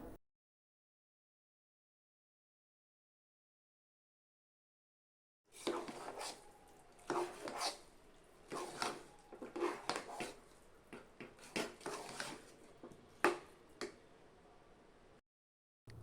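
Sweet pongal is stirred in a pressure cooker. After several seconds of silence, a spoon knocks, scrapes and clinks against the metal pot in an uneven rhythm of close taps and clatters.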